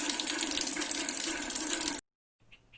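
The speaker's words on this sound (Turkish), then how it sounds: "Şimdi de patlıcanlarımı yıkayayım" Tap water runs steadily into a kitchen sink as eggplants are washed, a continuous close gush that stops abruptly, followed after a short silence by faint handling sounds.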